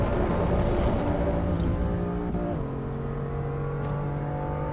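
A race car engine in the AC EVO sim racing game drones steadily, heard from outside, with a loud low rumble and a pitch that shifts down midway, then holds.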